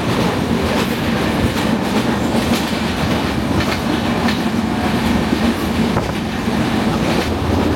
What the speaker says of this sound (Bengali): রেলপথের উভয় পাশের মাঠঘাট, প্রকৃতি আর গ্রামগঞ্জ পাড়ি দিয়ে দুর্বার গতিতে ছুটছে আমাদের ট্রেন